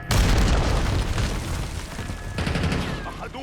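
A grenade explodes in the shooter game Call of Duty: Black Ops 6, a loud rumbling boom that stays heavy for several seconds amid battle noise.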